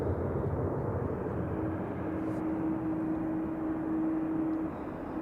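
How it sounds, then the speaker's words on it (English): A steady, broad roar of aircraft noise at a plane-watching spot on New Year's Eve, loud and continuous with a faint droning tone running through it, no talking. "One of them catches the aircraft noise"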